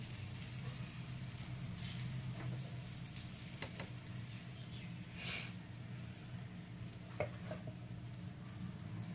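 A second puran poli is laid on a hot pan and sizzles in a steady, moderate frying hiss that runs throughout, with a few faint taps and clinks from the pan.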